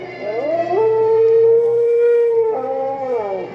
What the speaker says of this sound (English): a second werewolf, a powerful gray werewolf who now rumbles its challenge to Erica